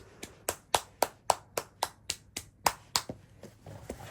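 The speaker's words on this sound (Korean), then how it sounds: "박수." A person claps their hands during a Christmas moment with a ten-month-old baby, about fifteen sharp, evenly spaced claps, close and crisp, with no talking.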